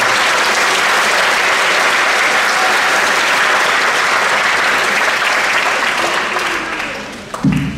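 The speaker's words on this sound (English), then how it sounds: "please give her a round of applause for that." Audience at a DARE graduation ceremony claps loudly and steadily for several seconds, a dense, even applause that tapers off near the end.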